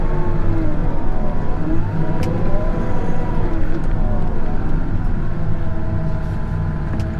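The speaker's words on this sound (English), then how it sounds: "Here comes the first milk truck." The first milk truck of the day arrives at a snowy farm, its engine droning steadily with gliding pitch changes as it approaches, a continuous vehicle rumble with no talk over it.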